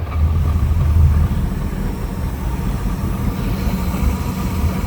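A Supra Sunsport boat engine idles steadily after being throttled back, a continuous low rumble with no speech over it.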